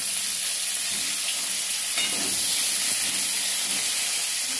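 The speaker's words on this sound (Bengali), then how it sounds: "কড়াইয়ে গোটা জিরে দিয়ে দিয়েছি। এবার টমেটোগুলো দিয়ে দেবো।" Tomatoes sizzle and fry with whole cumin seeds in hot oil in a kadai, a steady close hiss broken by a few stirring scrapes, with no talking.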